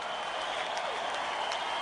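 Convention crowd at the Democratic National Convention applauding Al Gore, a steady wash of clapping and cheering from a large hall, sustained and even throughout.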